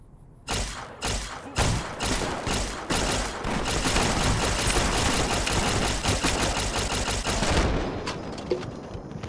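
A modded automatic laser pistol fires in Fallout New Vegas. It starts with several sharp, separate shots, then runs into a long, loud, rapid stream of fire lasting several seconds before it cuts off and trails away.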